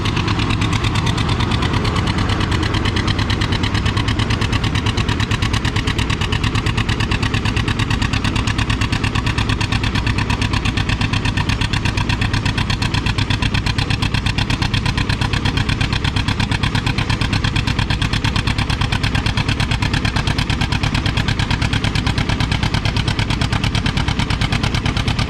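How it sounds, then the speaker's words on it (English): A John Deere R tractor drags a 9,000-pound weighted sled at about 3 mph, its engine a loud, dense, rapid pulsing roar that stays continuous and unbroken for the whole stretch. "Got a John Deere R on the sled."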